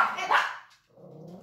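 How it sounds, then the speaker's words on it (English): A dog barks outside, a single close woof followed by a lower growl or muffled voice, brief and fairly loud. "somebody's out walking the dog."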